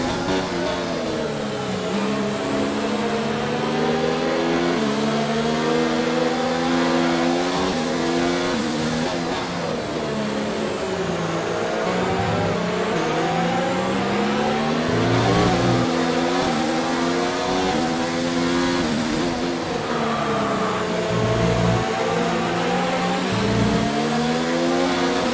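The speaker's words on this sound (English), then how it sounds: "Lots of wheel spin I'm having to manage in this Mercedes." A Mercedes Formula 1 car in the F1 2019 racing game screams steadily at high revs, pitch rising and falling through gear changes and wheel spin, loud and continuous for the whole stretch.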